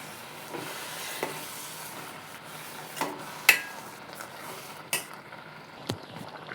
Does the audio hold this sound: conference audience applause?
no